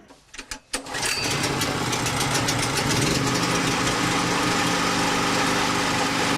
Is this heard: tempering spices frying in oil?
no